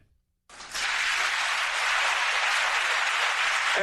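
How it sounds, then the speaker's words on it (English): Audience at a political event cheering and applauding for Bernie Sanders, a sudden swell of loud, dense clapping after a brief silence, holding steady to the end with no speech over it. "I want you to listen to the Democrats in the audience cheering Bernie Sanders"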